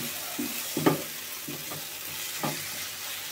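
Onion curry cooking down in oil in a village kitchen, a soft continuous sizzle broken by a few scraping stirs of a spoon against the pan, close and fairly quiet.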